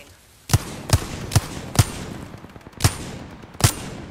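Apex Legends gunfire from a Wingman revolver: six loud, sharp single shots spaced roughly half a second to a second apart over quiet game ambience.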